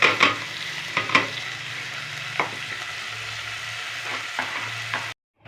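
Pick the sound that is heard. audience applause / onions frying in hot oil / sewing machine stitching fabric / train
onions frying in hot oil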